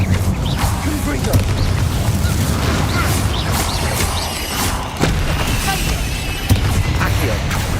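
Incendio and Confringo spell blasts go off in Hogwarts Legacy combat, heard as repeated booming impacts and crashes over continuous rumbling game noise, with a voice calling out spells.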